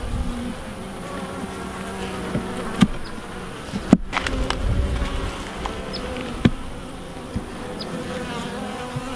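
Honey bees swarm around an open beehive during an inspection, keeping up a constant close buzz with scattered clicks and knocks from handling the hive frames, with no talking.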